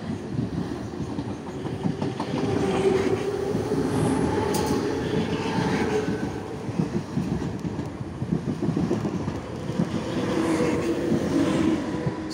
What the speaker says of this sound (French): Il y a un train qui arrive sur la voie.